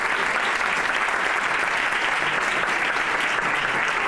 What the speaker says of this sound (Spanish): os pido simplemente un aplauso